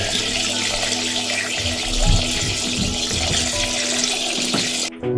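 Water rushes and gurgles steadily as a failing home pressure tank drains during a DIY replacement, loud and close for several seconds before cutting off abruptly near the end.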